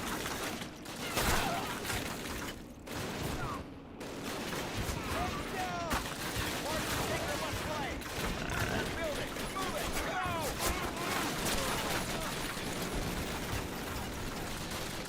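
Rapid bursts of gunfire from a Call of Duty match crackle almost continuously, dense and loud, with a player talking over the shooting.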